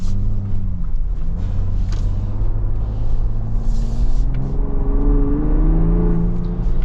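A 2025 Ford Bronco Raptor engine revs and accelerates with a deep, loud exhaust rumble that rises steadily in pitch, recorded close up with no talking.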